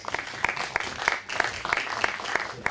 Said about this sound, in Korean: 박수로 모셔주시기 바랍니다.